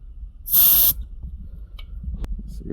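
Air hisses out of a tire valve stem in a single sharp burst lasting under half a second, loud and close, followed by faint handling noises and quiet.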